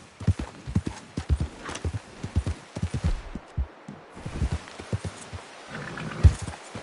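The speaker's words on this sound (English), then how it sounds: "That looks like a pretty nice horse you got there." Video game horse hooves clip-clop in a quick, steady rhythm, close and fairly loud, with a short pause midway before the gait resumes.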